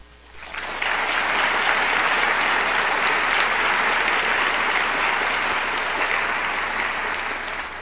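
A full audience at a Stanford law event breaks into loud, sustained applause that swells within the first second and holds steady as a dense, even wash of clapping, with no speech over it.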